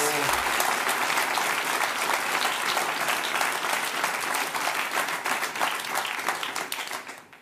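A German late-night comedy show's studio audience keeps up dense, steady applause, a thick even wash of many hands clapping that fades slightly at the very end.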